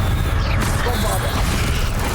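A Bombarda spell bursts in Hogwarts Legacy, a loud, rumbling blast with crashing debris amid dense game noise, while a spoken incantation cuts in.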